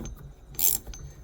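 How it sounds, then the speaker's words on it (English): A hand ratchet tightens a nut on a shock absorber shaft of a 2018 Tahoe, giving a short burst of sharp metallic clicking near the middle amid faint workshop background, with no talk. "this one does ratchet, and I am going to hold the end of the shaft like so and begin to tighten down"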